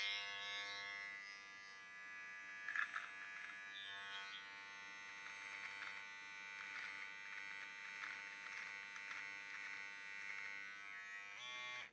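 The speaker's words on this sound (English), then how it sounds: "So here I have the design trimmer" A USB rechargeable cordless design trimmer from an 11-in-1 trimmer kit runs with a steady, thin electric buzz held close for the whole stretch, with slight wavering and no talking.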